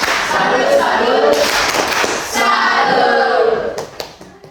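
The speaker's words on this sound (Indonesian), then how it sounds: "kita berikan tepuk salut untuk Sensei" A class claps for the teacher in a rhythmic 'tepuk salut' pattern, with sharp bursts of hand claps in time with the children's chanting voices, fading toward the end.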